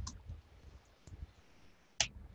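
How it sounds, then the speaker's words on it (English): Sparse, quiet clicks of keys on a computer keyboard, a few scattered taps with one sharper click near the end, close and alone. "And I'm going to type out his name."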